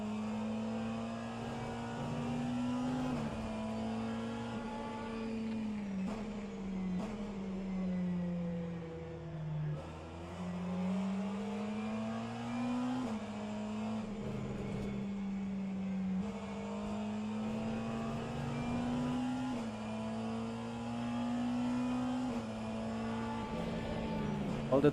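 Racing car engines in a virtual endurance race game with a BMW and a McLaren, a steady droning engine note rising and falling through gear changes, continuous and fairly close, with no talk.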